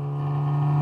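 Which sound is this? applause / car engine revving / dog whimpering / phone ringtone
car engine revving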